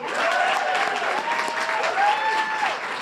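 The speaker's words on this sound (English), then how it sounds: "I just want to say a big round of applause for all the staff" An audience applauds the staff of a peace institute at a community gathering, a sustained wash of clapping with scattered cheers and whistles rising over it.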